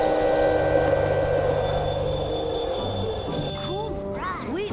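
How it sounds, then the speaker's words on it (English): Riding aboard a train, with a steady rolling rumble and hum throughout, then rising squeals from the wheels toward the end. "It's fun to ride the train, isn't it?"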